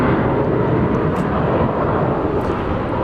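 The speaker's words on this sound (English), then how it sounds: "Let's see what we can see regarding the British Airways A380." A British Airways Airbus A380 at Dallas Fort Worth airport at night, a broad, steady jet roar filling the air at constant loudness, no voices over it.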